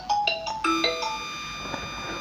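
A phone ringtone plays a short melodic chime pattern of bright tonal notes, starting loud then fading into softer repeated tones, heard alone in a room in Kuwait.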